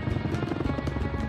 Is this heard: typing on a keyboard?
no